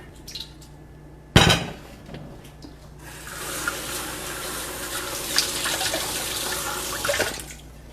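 Water pours steadily into a pot of kibbeh soup made with full-fat yogurt, a continuous splashing gush after a sharp clank, with no talk over it.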